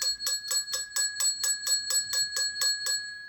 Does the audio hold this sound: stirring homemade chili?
no